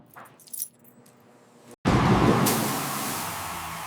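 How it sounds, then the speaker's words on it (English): Set of keys jangling close by as they are handed over, a bright metallic rattle after a few softer clinks, then a steady broad rush continues to the end. "Here are the keys."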